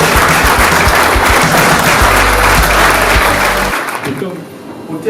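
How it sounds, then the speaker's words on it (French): Audience applause at a candidacy declaration for mayor of Grasse, a dense, steady wash of clapping with a low rumble beneath, loud throughout before thinning and fading over the last second. "je vous demande de les applaudir"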